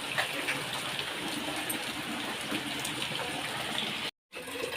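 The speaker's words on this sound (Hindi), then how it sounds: "भयंकर वर्षा होची" Heavy rain pours down during a trip to a temple, a dense, steady roar that stays loud and even, then cuts out briefly just before the end.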